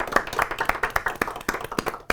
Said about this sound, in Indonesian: tepuk tangan boleh buat Zairi